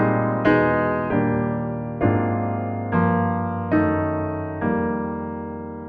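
Rich jazz piano chords, struck one after another, each ringing out before the next, about six in a steady progression with no melody or voice.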